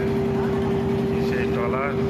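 A trawler boat's engine on a river branch of the Meghna, a steady droning hum that runs throughout at moderate distance, with faint voices in the background.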